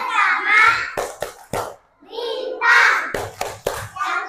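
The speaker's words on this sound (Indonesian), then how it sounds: "sekali lagi kita tepuk Pancasila" Young schoolchildren in a first-grade class chant a rhythmic clap routine, loud group voices alternating with a few sharp, separate hand claps at close range.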